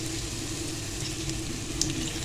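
Crushed garlic frying in two tablespoons of oil makes a dense, even sizzle, close and steady throughout, with no voices.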